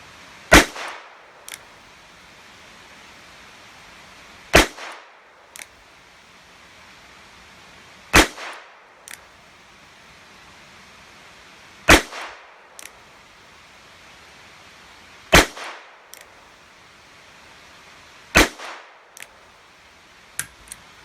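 A Charter Arms Pathfinder .22 revolver fires Winchester Super X copper-plated hollow points outdoors. Six sharp, loud shots come at a steady, unhurried pace of a few seconds apart, each followed by a short echo, with faint clicks between them.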